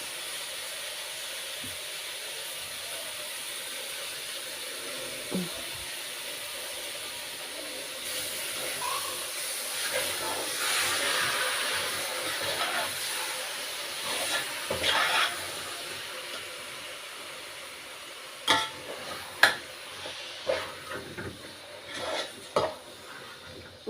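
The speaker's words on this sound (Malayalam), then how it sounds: "നമുക്ക് ഇതിലേക്ക് ചിക്കൻ ഇട്ട് കൊടുക്കാം" Chicken pieces dropped into a pan of softened onions and tomatoes, frying with a steady hiss and sizzle, with clinks of a utensil against the pan growing sharper toward the end.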